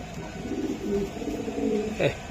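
Racer pigeons coo in a low, steady rumble close by against a noisy, hissy background, with a brief brighter sound near the end.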